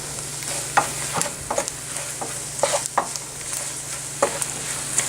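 A spoon stirs sausage gravy thickened with flour and pepper in a frying pan, scraping and tapping in irregular clicks over a steady low sizzle, close by and moderately loud.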